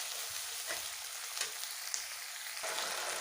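Chopped onions frying in hot oil in a home kitchen pan, giving a steady, close sizzle that holds throughout with soft crackles and brief stirring clinks, no voices.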